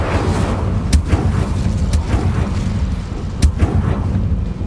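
Repeated Incendio fire spell bursts in Hogwarts Legacy, sharp whooshing blasts at roughly one-second intervals over a dense low rumble, loud and close with no talk.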